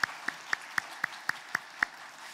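Faint, evenly spaced claps ring out in a steady rhythm during a Korean church Sunday service as the congregation welcomes newly registered members, sounding thin and distant in a reverberant hall.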